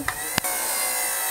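A repaired blender, once jammed and now freed up, running on series power: a steady close whirring motor hum that holds constant after a couple of quick clicks at the start.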